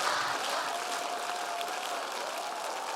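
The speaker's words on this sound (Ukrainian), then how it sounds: "Ваші оплески танцюристам" An audience claps for dancers at a competition show, a dense, even wall of applause heard at a moderate distance, continuous for the whole stretch.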